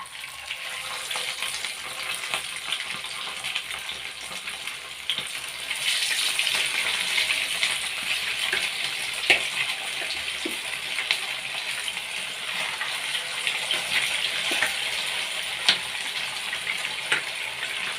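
Pieces of fish frying in hot oil, a steady close sizzle and crackle that holds for the whole stretch with occasional pops and light stirring clicks and no talk.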